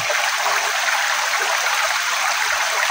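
A small creek flows steadily outdoors, its close, even rushing and trickling water holding a constant broadband hiss without pause or breaks.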